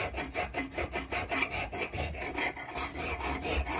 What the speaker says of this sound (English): this file is not going to leave a real smooth surface